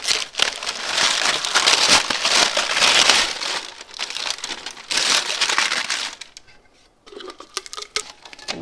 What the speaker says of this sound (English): When you remove the shrink wrap and the sublimation paper, you can do it when it's hot